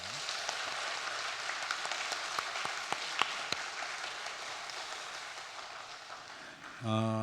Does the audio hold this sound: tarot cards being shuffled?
no